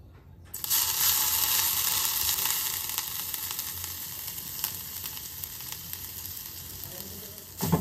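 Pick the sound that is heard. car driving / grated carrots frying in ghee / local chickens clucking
grated carrots frying in ghee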